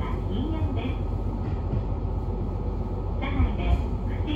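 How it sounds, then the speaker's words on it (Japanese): Rumble of a local train on the Sekisho Line bound for Shin-Yubari, Hokkaido, heard from on board as a steady low rolling drone with faint rhythmic clatter, quiet brief sounds rising above it near the end. "これが新夕張に向かう普通列車の始発列車です。"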